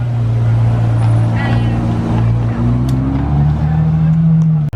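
A Ferrari 812 Superfast on a race track, its engine droning loudly and steadily with shifting pitch as it drives, a voice talking faintly over the engine noise.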